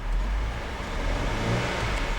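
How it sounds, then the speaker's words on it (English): A 2008 Land Rover LR2 AWD engine revving up from idle, a loud, close, continuous low roar that holds steady throughout, with no talking. "I'm gonna rev the engine."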